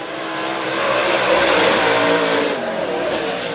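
Race cars roar past at Monett Motor Speedway during a heat race, a loud sustained engine drone swelling and fading as the pack runs side by side off the final turn, with a faint announcer voice under the noise.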